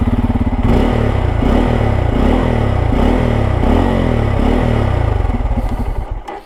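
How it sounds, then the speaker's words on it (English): The small exhaust of a Bajaj Pulsar N250 motorcycle with a two-valve single-cylinder engine thrums up close, loud with a rhythmic pulsing throb through repeated throttle blips before cutting off abruptly at the end. "This exhaust sounds good."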